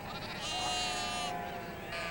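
Sheep bleating on a New Zealand farm, a steady overlapping chorus of wavering calls at moderate distance, with faint voices in the background.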